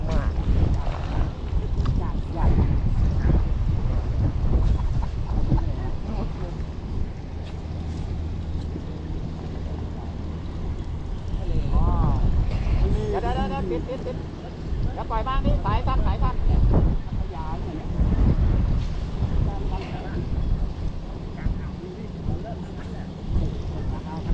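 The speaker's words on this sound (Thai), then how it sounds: "เออลมมาแรงอะพี่" Strong wind buffets the microphone beside an outdoor sea bass fish pond, a loud continuous roaring rush with gusty swells, while people talk over it.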